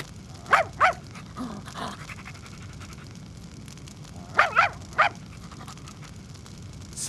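A dog in the Tenchu 2 video game barks in two short bursts, a quick pair of yips near the start and a cluster of three barks later, fairly close over a low background hum.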